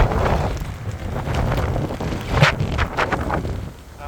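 Strong headwind buffets the microphone while cycling, a loud, gusty rumble with irregular bursts that eases slightly toward the end.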